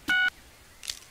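Phone keypad tones from the video game Lego City Undercover as a number is keyed in: one loud, clean electronic tone held briefly, then a fainter short blip a moment later.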